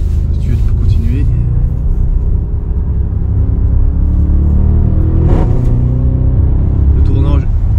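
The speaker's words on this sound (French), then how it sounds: "il y a quand même tous les retours à l'échappement" An Audi RS6 C7 Performance with an unmodified 605 hp, 750 Nm engine rumbles loudly and steadily from inside the car, with a few exhaust pops and crackles breaking through. Voices talk over it.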